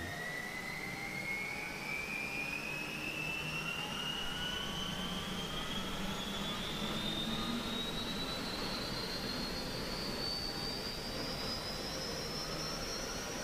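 A Huey helicopter's turbine engine starts up in DCS World, a steady whine rising slowly in pitch over a continuous low rumble.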